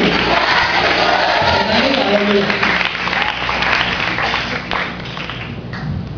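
A church congregation claps and cheers in praise, a dense continuous wash of applause from a large crowd, loud and close, with voices mixed in.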